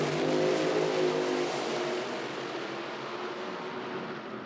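Two drag racing cars tear down the track at an IHRA Outlaw Nitro Series event in Hebron, a loud roaring pass that fades steadily as they pull away into the distance.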